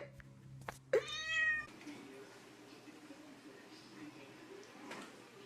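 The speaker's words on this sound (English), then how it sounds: "Cat, look, he's stuck." A cat caught in window blinds gives one short, clear meow near the start, set against faint rattling and low room noise, and then the clip goes quiet apart from a soft background hiss.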